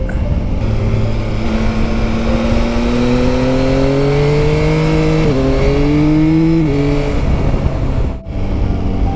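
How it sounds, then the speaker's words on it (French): A concrete mixer truck's heavy engine drones loudly nearby on a narrow country road, its pitch rising slowly and then dipping as it labors past, with a brief drop near the end. "Ah, camion de toupie sur les petites routes."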